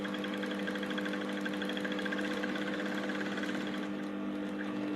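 A sewing machine runs steadily while stitching fabric for a pair of short pants, giving a continuous close mechanical whir with a constant hum and rapid needle chatter.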